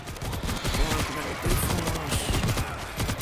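Machine gun fire in the zombie shooter World War Z: dense, continuous automatic bursts with loud, chaotic combat noise throughout, no pauses.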